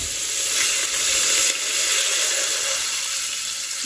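Water poured into a hot pan of green banana meat brings a loud, close, steady sizzle and hiss of frying that stays strong throughout, with no voices.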